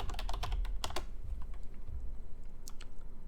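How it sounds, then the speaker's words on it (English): Computer keyboard typing in a Roblox search bar: a quick burst of key clicks in the first second, then sparse, softer taps, close and alone with no talk. "You go in your search bar and you type in Tycoon system."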